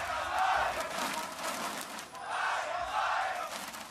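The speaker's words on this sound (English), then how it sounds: "The crowd loves it." A large arena crowd at the 2017 League of Legends Mid-Season Invitational cheers during a Gigabyte Marines versus SuperMassive match, giving two swelling roars that merge into one continuous loud wall of voices.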